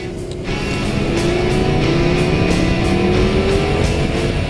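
A Mercedes-Benz SLS AMG's 6.3-liter naturally aspirated V8 runs steadily and loud throughout, its engine note rising gradually as the car accelerates, with no talk over it.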